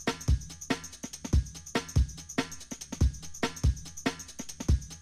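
A drum break plays alone: punchy kicks and crisp snares in a steady funky loop, with bright hi-hat ticks repeating across several bars.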